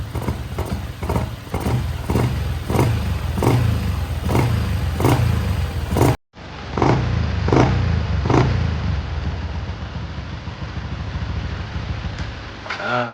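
A tuned engine's exhaust pops and burbles in rhythmic bursts, cuts out briefly, then restarts and revs with a rough, uneven note up close.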